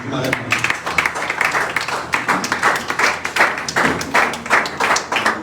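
A church congregation claps together in a steady, fast rhythm, loud and close, with voices raised over the clapping throughout.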